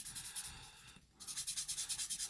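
Nitram charcoal is blended across paper in quick, even back-and-forth rubbing strokes, soft and close, with a brief pause midway.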